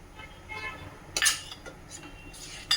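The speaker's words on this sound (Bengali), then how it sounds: "দুধ আর নারকেল চিনি সব একসঙ্গে দিয়ে ভালো করে মিশিয়ে নিচ্ছি" A spoon stirs milk, grated coconut and sugar together in a bowl, making a few short scraping clinks of metal on the dish over a low background, with a sharper knock near the end.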